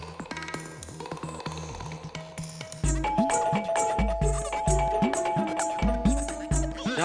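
An apartment doorbell rings again and again in rapid, insistent metallic dings, close and loud, with a repeated pressing rhythm that grows more intense after the first few seconds.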